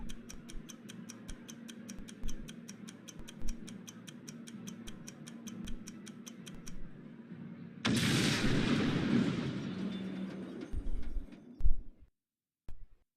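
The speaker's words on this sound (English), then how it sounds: "the enormous explosion that ripped through the experimental stage of the Great Exhibition" Enormous explosion in The Great Ace Attorney 2 at the experimental stage of the Great Exhibition: an even ticking runs first, then a sudden loud blast bursts out and rumbles for several seconds before it fades, with a few thuds at the end.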